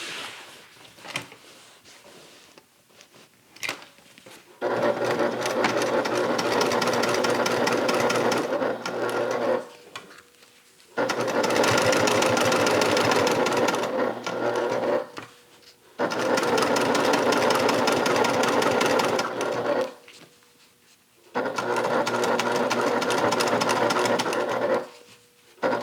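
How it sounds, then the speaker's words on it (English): A Bernette sewing machine stitches the upper lining of a bag, catching the seam allowance beneath, in four steady whirring runs of several seconds each, separated by brief pauses, loud and close with no talk. "you're going to stitch on the upper lining"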